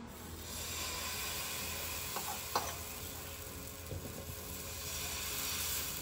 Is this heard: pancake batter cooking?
yes